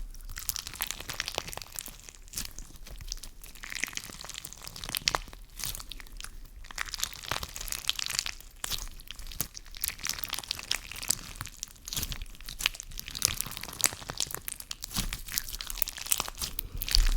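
Crunchy bead-filled slime, a leafy crunch bomb, squished and worked by hand close up, giving dense continuous crackling, crinkling and popping textures in steady bursts with no talking.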